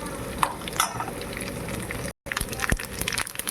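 Curry leaves sizzle and crackle in hot oil in a pan, a steady close frying hiss with scattered pops and one brief drop to silence partway through.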